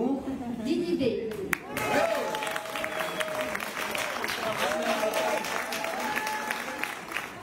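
An audience applauds at an African award ceremony, with sustained clapping and crowd noise filling the hall. A voice speaks over the applause near the start and again partway through.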